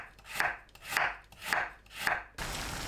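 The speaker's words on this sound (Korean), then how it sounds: "손질한 우엉을 얇게 썰어주세요." Trimmed burdock root being thinly sliced with a knife on a cutting board, four steady, evenly spaced chopping strokes, close and clear with no talk.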